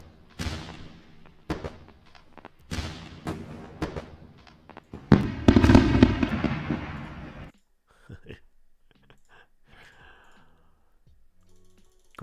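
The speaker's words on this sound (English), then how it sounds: "Let's go for a round of fireworks." Fireworks sound effect: a quick run of sharp pops and crackles, then a denser fizzing burst, fading into sparse faint clicks near the end.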